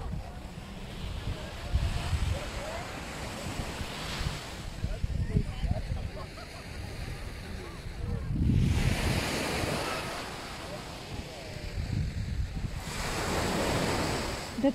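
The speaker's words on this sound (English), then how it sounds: "Let's come see the sea." Sea waves breaking on a beach in Málaga, Spain, in April, rolling in as repeated surges of surf with wind buffeting the microphone, swells rising and fading every few seconds in the open air.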